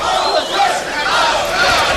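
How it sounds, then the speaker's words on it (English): A boxing arena crowd at the Kostya Tszyu vs Hector Lopez fight chants the name Lopez in loud, rhythmic, massed voices. The chanting fills the hall continuously, with a distant, reverberant quality. "And now the chant from the crowd of Lopez."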